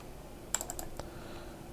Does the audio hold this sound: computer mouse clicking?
yes